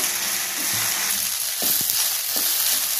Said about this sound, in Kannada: ಈ ಬೆಂಡೆಕಾಯಿನ ನಾವು ಇದರಲ್ಲೇ ಪೂರ್ತಿಯಾಗಿ ಫ್ರೈ ಮಾಡ್ಕೊಂಡ್ಬಿಡ್ಬೇಕು.